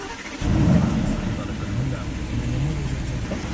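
An Aston Martin Vantage two-seater with a Mercedes-AMG engine starts with a sudden loud low rumble, then settles into a steady, close idle with slight rises in revs.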